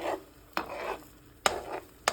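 Eggs being stirred in a pan with a metal utensil rather than a wooden spoon: three or four sharp scraping strokes against the pan spaced about a second apart, with a soft sizzle between them, close by and fairly quiet.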